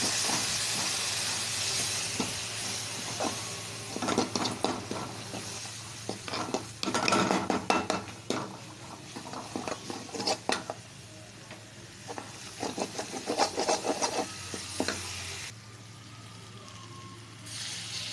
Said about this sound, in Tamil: பச்சை வாடை போக நல்லா வதக்கணும்.